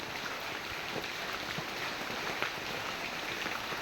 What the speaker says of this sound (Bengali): জোরে বৃষ্টি আসছে